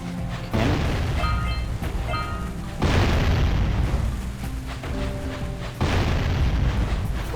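Bombs explode in the Jak and Daxter: The Precursor Legacy video game, a series of loud, deep booms arriving in quick succession with rumbling tails and brief tonal game effects between blasts.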